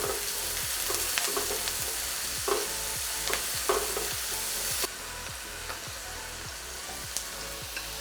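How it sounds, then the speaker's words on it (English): Chopped onions sauté in a pan with a faint, steady sizzle and occasional stirring clicks. A regular low pulsing hum sits beneath, and the hiss drops slightly partway through. "I add in chopped onions and saute them"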